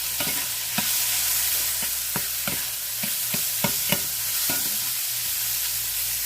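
Food sits cooking in a pan with a constant sizzle, punctuated by a series of sharp utensil clicks and scrapes at irregular intervals, no talking.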